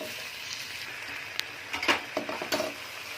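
Vegetables and chicken for fried rice fry in a pan with a soft steady sizzle, with a few sharp clinks and scrapes of a utensil against the pan partway through.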